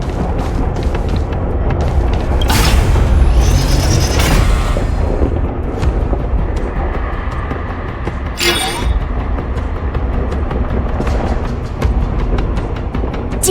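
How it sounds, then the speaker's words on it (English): Heavy mechanical rumbles and booming clanks as a mechanism switches on in Honkai Star Rail, loud and dense, with a couple of sharp bursts standing out over a continuous low machine drone. "Did you hear that? This mechanism must be on now."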